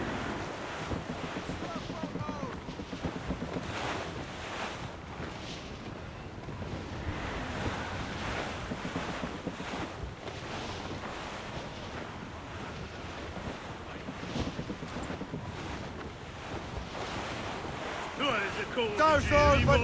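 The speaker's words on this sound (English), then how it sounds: "That wind's trouble, Captain Cormac." Stormy wind and ocean waves roar steadily at sea in the video game Assassin's Creed Rogue, with continuous gusts and surf and a louder swell near the end.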